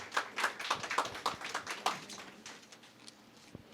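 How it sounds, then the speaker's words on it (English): Applause from a group, a flurry of claps that starts strong and thins out over a few seconds, fading toward the end. "Everybody give her a round of applause."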